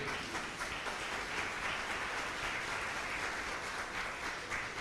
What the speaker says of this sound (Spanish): Dele un aplauso al Señor por esa palabra